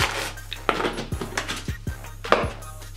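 Hair bleach powder is scooped into a mixing bowl, with a quick series of close, light clinks and taps against the bowl over a few seconds.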